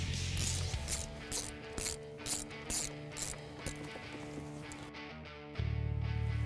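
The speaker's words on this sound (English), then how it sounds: "Now we're going to hold the pulley and torque them between 8 and 12 Newton meters." A ratchet clicks in quick bursts while tightening the supercharger pulley bolts on a 2015-2017 Mustang GT 5.0L with a Roush supercharger kit, close and crisp with rhythmic pawl ticks, then stops, followed by a low steady hum.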